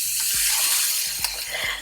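A bag of rice dropped into a pot of boiling water on a stove, giving a couple of low thumping splashes over a steady bubbling, sizzling hiss, close and fairly loud.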